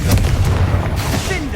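Confringo blasting spell cast in Hogwarts Legacy, a short loud booming burst with rumbling low impact and crackle, close and dominant.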